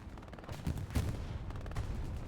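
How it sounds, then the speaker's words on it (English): Dense gunfire and a burst of explosion in the World War II shooter Hell Let Loose, with rapid overlapping shots and a louder blast in the middle, heard at moderate distance over constant battlefield rumble. "There was an explosion, a vehicle explosion."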